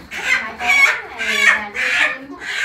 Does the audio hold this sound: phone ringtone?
no